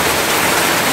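Heavy rain pours down suddenly and steadily, a dense, loud wash of close-up downpour hiss with no voices.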